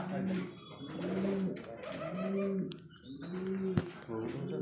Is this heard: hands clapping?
no